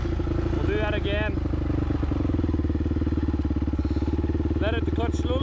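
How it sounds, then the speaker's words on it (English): A race quad ATV engine chugs in a rapid, even pulse as the clutch is let out slowly, with sharp rising rev bursts near the start and end, close and loud beside a talking man. "we're going to let out the clutch slowly and give her a little bit of revs"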